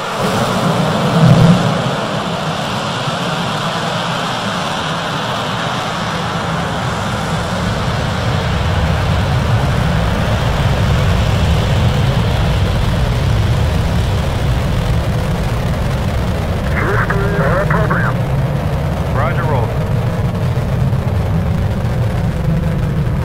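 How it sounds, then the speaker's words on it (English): Space Shuttle main engines start at launch as a distant, sustained low roar that swells and holds for over twenty seconds, with a few faint brief tones midway and no speech. "go for main engine start"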